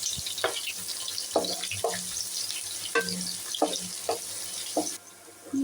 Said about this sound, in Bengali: সেই পেঁয়াজটা আমি এই তেলের মধ্যে দিয়ে দিলাম